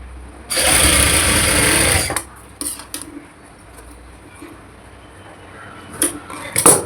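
A sewing machine stitches lining cloth onto an umbrella frock in one loud continuous whir of about a second and a half, followed by quieter clicks and brief fabric handling.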